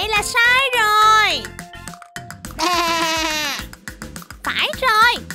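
Cartoon sheep in a children's animal song and cartoon bleats loudly in several drawn-out, wavering cries with short gaps, like a voiced imitation of a sheep.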